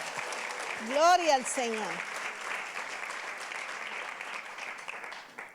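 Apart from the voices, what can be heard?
applause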